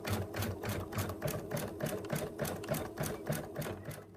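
An embroidery sewing machine stitches a basting placement line for an in-the-hoop moose design, making a fast, even, rhythmic chatter of stitches, close and steady throughout.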